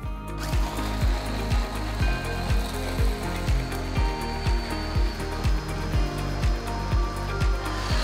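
A food grinder blends khao soi spice paste in steady repeating ratcheting pulses, about two per second, loud and close with no talk.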